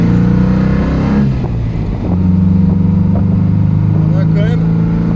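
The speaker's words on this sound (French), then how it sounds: "Quand même un moteur de race." A Jensen-Healey with a Lotus engine pulls hard on a road test, its engine droning loud and close with a rising rev through the acceleration, wind noise over it and someone talking throughout.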